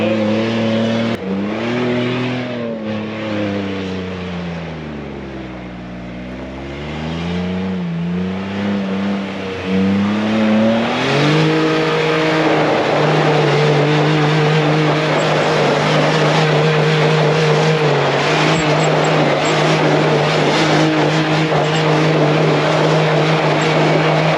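A Ford Bronco SEMA build engine drones loudly and steadily as the truck is driven, its pitch dipping and then rising as it revs before settling into a strong continuous roar.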